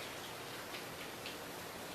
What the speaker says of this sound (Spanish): Ahora está lloviendo, yo digo que eso es la música del cielo